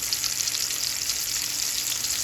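Cube steak searing in a hot pan, a continuous bright, hissing sizzle at steady loudness with no pauses.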